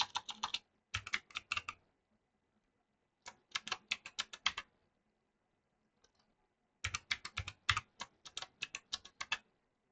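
Rapid bursts of keystrokes on a computer keyboard while a password is entered during a Kali Linux setup, in several clustered runs of clicky taps separated by short pauses, close and fairly quiet.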